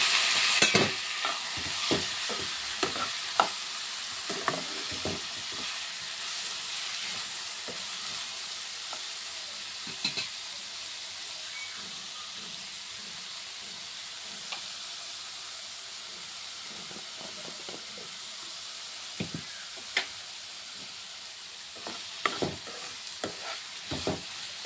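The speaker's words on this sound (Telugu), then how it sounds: "ఇది కొంచెం ఫ్రై అవ్వాలి. ఉల్లిపాయలు అయితే ఫ్రై అయిపోయినాయి." Onions with turmeric and boiled beetroot frying in a pan, a steady hissing sizzle up close with scattered scrapes and knocks of a spoon stirring, louder clatter near the start and end, no one speaking.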